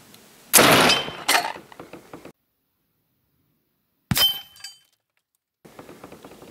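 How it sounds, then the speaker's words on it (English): An air rifle fires a hard cast lead round, a sharp loud crack followed by a ringing metallic impact and a fading rattle, and a second short crack-and-clang after a pause. "Let's go ahead and fire another round through that."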